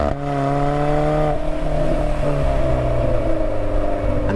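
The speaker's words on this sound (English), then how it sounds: "This Alfa engine screams to you in a way that no four-cylinder engine has" Alfa Romeo 4C four-cylinder engine revving, a loud droning whine held at high revs with a brief dip in pitch around a gear change, heard with no talk.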